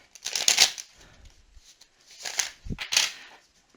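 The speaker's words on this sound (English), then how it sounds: "one more shuffle and a couple more" Loose tarot cards shuffled by hand in two brief bursts of riffling and sliding, close and crisp, with a soft thump between them and no talking.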